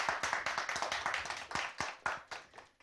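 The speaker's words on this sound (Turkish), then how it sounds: "saygıdeğer Hüseyin Koyuncu'yu alkışlarla davet ediyorum" Scattered hand clapping greets a guest, Erbaa associations federation president Hüseyin Koyuncu, on a Turkish folk music TV programme, a few distinct claps in an uneven rhythm, fairly quiet and thinning toward the end.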